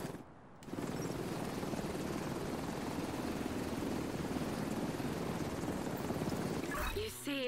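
A helicopter in a video game whirs with a steady, loud rotor roar that kicks in after a brief quiet start and holds evenly for several seconds before cutting off near the end.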